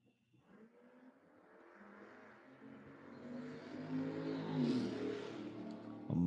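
A Tesla and a Camaro make a drag race run. A distant engine roar swells gradually, grows louder and rises in pitch, then peaks and cuts off sharply.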